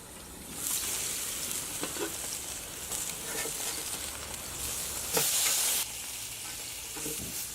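Skirt steak brushed with teriyaki sauce sizzles on a grill with a steady hiss, broken by a few sharper spits and crackles and a brief louder burst of steam near the end.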